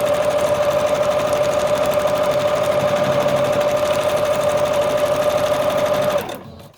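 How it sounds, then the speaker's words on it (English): A sewing machine runs a straight stitch across layered fabric collage pieces, a steady close motor whir with rapid needle rhythm holding unbroken for about six seconds before stopping abruptly. "We're going to do some straight stitch as well and try to get all those bits sewn over"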